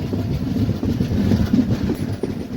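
Mandovi Express rumbling along the Konkan Railway over a monsoon-swollen river, a steady low rolling drone of train wheels and carriages, loud and continuous with no talk.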